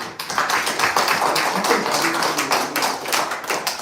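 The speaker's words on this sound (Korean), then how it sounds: "박수 한번 크게 쳐줘." A church congregation claps during a Sunday morning service, a dense, sustained patter of many hands held at a steady level for several seconds, with a few louder individual claps standing out.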